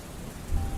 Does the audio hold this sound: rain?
yes